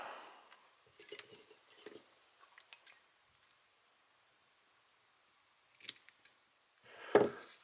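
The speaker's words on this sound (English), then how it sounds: "I'll measure how wide I want my slip, and I'll cut that out." Small scissors snip a feather wing slip for fly tying: a few quiet, crisp cuts at the start, then silence, then another short snip and a sharp metallic click near the end, close and faint.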